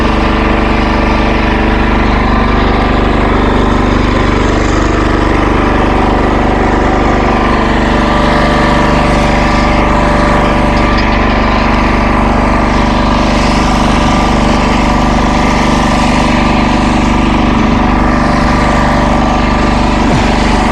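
Diesel boat engine running steadily, a loud continuous throbbing drone close by with no pauses and no voices.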